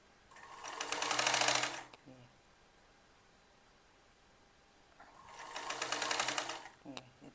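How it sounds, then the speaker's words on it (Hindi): A sewing machine stitches a kurti sleeve to the armhole in two loud rapid bursts of about a second each, separated by a quiet pause with faint handling sounds. "ये देखिए ऐसे सिलाई लगा देनी है।"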